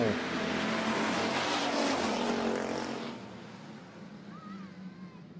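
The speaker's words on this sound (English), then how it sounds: "And we are green and racing." Street stock race cars roaring past on an oval track after a restart, a loud rumbling pack of engines that fades into the distance after a few seconds as an announcer talks over it.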